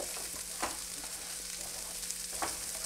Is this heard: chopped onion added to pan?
yes